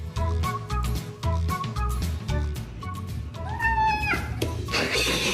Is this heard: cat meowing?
yes